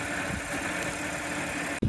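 An Audi S5 engine idles with a loud, raspy exhaust, a steady close rumble that holds constant and ends in a brief cutoff and a thump near the end.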